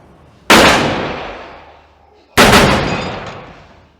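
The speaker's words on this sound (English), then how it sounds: "As Michael shoots both of the men, the sound stops, leaving room for the gunshots and not much else." Two gunshots in the restaurant scene of The Godfather, each a sharp, loud bang with a long decaying tail, spaced about two seconds apart against near silence.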